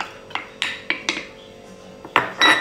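Metal couscous steamer pot being handled while cooking onion: a series of sharp clanks and clinks at uneven intervals, close by, with a brief louder scrape of metal at the end.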